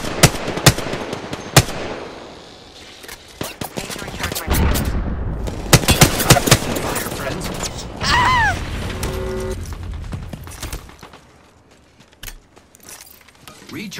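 Video game gunfire: sharp close shots and rapid machine-gun bursts scattered across a busy battle, with heavy impacts, whistling effects and a stretch of quieter ambience toward the end.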